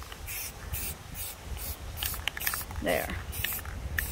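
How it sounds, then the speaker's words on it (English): White spray paint hissing from an aerosol can onto wooden cutouts outdoors in wind, in repeated short bursts of about half a second each, fairly close, with a single spoken word briefly. "I'm getting spray paint on everything with the white except on the skateboard."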